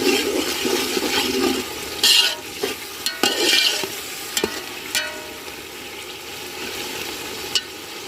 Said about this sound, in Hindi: मसाला हमारा अच्छी तरह भुन रहा है।